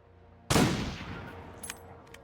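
A single loud rifle shot fired at a moose in The Long Dark rings out close and sharp, then decays into a long rolling echo across open wilderness.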